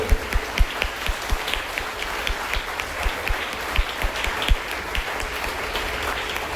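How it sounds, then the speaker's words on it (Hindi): Applause at a Guru Purnima honour ceremony at a school, steady and sustained with individual claps popping out, continuing without a break across the whole stretch. "जब तक ताली बजा सकता है तब तक ताली बजती रहेगी"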